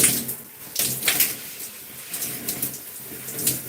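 Water runs over natural gray hair during a rinse, soft uneven splashing and trickling in bursts, close and moderately quiet, with no talking.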